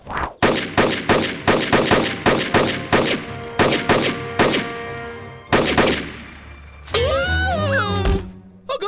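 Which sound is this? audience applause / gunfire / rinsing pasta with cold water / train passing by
gunfire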